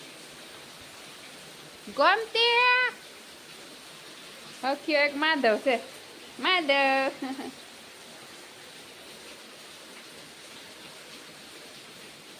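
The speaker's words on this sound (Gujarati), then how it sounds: "વરસાદની ગતિ વધતી જાય છે, અને વરસાદ રૂકવાનું નામ જ નથી લેતો." Heavy storm rain pours steadily over a Gir cow shelter, a constant broad hiss running through the whole stretch while people talk in three short bursts over it.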